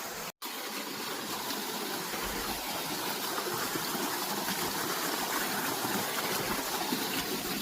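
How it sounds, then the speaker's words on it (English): A creek along a hiking trail near a waterfall rushes and burbles steadily, a close, continuous broadband wash of flowing water with no voices over it. "And we still have the creek."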